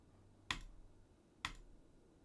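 Two sharp mouse clicks about a second apart on a web page button in a browser, close and crisp against a quiet background.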